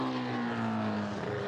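A B-Series turbo race car engine at Lime Rock Park drones steadily and loudly throughout, a sustained harsh engine tone with no speech over it.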